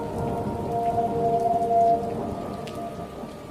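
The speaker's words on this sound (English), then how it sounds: "The teal rain was cold and insistent, driving down in sheets that soaked the ground" Cold, heavy rain driving down in sheets onto open ground, a dense, steady hiss of downpour with a low rumble beneath and a faint tonal hum in the middle, continuous and with no voices.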